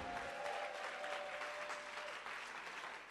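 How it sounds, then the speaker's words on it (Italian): A church congregation claps hands together during praise worship, steady dense clapping filling the room at a moderate distance, with no voices over it. "Popolo di Dio, batti le mani!"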